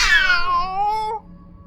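A single cat meow cries out suddenly from a corner, a clear, close, drawn-out wail that slides downward and stops abruptly after about a second, followed by quiet.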